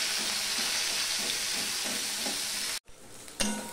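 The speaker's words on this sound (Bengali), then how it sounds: "এবার দিয়ে দিচ্ছি পেঁয়াজ" Onions and green chillies sizzling in oil with panch phoron for a bhindi-aloo dish, a dense steady frying hiss with rhythmic stirring scrapes, then a sudden brief cut and a fresh burst of sizzle near the end.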